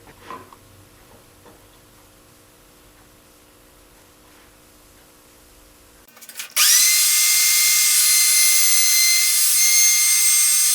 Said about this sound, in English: I'm going to use my router table here. I'm just going to round over the face.